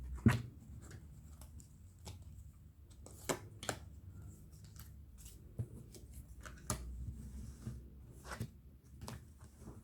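Tarot cards being shuffled and drawn by hand, producing soft, quiet clicks and card snaps at irregular intervals, close by in a calm room with no talking.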